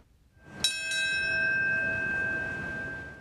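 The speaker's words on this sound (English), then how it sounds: "Another bell marked the exact moment when that second plane hit the World Trade Center as well." A single bell strike rings out at a 9/11 memorial ceremony in New York marking the moment the second plane hit the World Trade Center, its clear metallic tone sustaining and slowly decaying.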